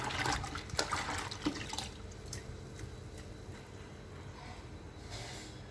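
A hand swishes and splashes through water while rose powder is mixed in for washing white clothes, close and busy at first and then settling to quieter drips and sloshing.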